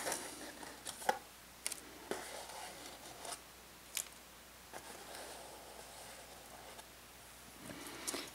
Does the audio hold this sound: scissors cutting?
yes